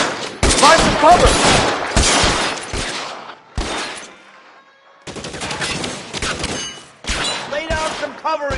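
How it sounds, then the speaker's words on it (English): Loud bursts of rapid gunfire crackle in a shootout in the video game L.A. Noire, dense volleys broken by short lulls, with shouted voices mixed in. "Lay down some covering fire."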